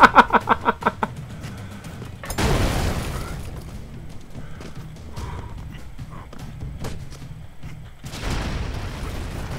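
Explosions boom in the 2D action game BroForce, with quick rhythmic thuds at the start followed by heavy rumbling blasts and scattered impacts, loud and chaotic.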